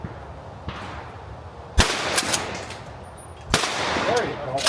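Shotgun blasts at a sporting clays range during practice before a tournament, two loud sharp reports a couple of seconds apart with echoing tails, close by and outdoors, with faint background chatter.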